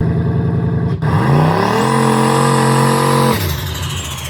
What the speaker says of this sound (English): Very shortly after we did our burnout test in the driveway